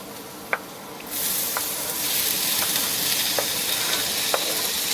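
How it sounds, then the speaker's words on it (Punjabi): Onions frying in spiced oil tadka with ginger for pav bhaji, a loud steady sizzle that swells as they hit the pan, with a few faint clinks of stirring. "ਹੁਣ ਵਾਰੀ ਆਉਂਦੀ ਆ ਆਪਣੇ ਪਿਆਜ਼ ਪਾਉਣ ਦੀ"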